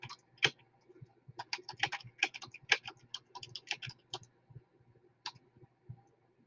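An answer is typed on a computer keyboard, with quick, irregular runs of crisp key clicks and short pauses, close and clear against a quiet background.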